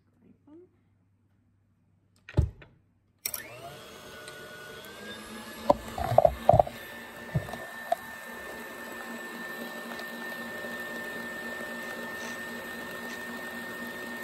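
An electric mixer whirs steadily as it creams cream cheese batter for a pineapple cream cheese cake, starting after a couple of clunks and running as a constant motor drone with scattered knocks of beaters against the bowl.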